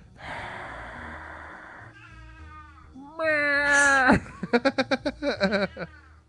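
A cat meows and caterwauls several times close up, with long drawn-out wails followed by a quick series of short rhythmic meows near the end, over a low background hum.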